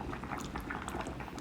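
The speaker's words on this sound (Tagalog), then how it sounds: "Kumukulo." Steady bubbling and gurgling of water at a rolling boil in a pot, a continuous close wash of small pops with no voices.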